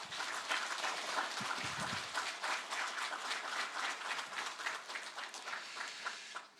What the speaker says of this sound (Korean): 우리 먼저 예배 전에 하나님께 영광의 박수를 드리겠습니다